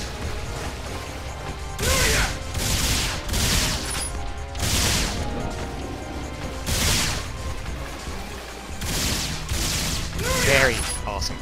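Gunshots and rocket fire in Phantasy Star Online 2 come as strong, separate bursts roughly a second apart, mixed with mechanical clanks, while a voice talks over them.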